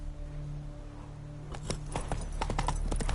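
Roach, a horse in The Witcher 3 video game, gallops with clip-clopping hooves that grow loud and rhythmic over a faint ambient hum after a quiet start.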